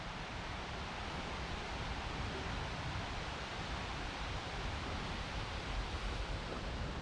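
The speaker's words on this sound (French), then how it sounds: "Et là c'est le ruisseau d'Arize que l'on entend." The Arize mountain stream in the Pyrenees below the Pic du Midi de Bigorre rushes in a steady, unbroken wash of water noise, fairly faint and even, with no voices.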